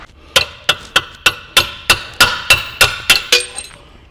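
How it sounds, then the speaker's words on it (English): A hammer strikes a punch eleven times in a steady, evenly spaced rhythm to tap out a fastener on a Lincoln Mark VII air suspension. The sharp metallic clinks are close and loud, with no talking. "I'm going to give it a little punch and finish tapping that out."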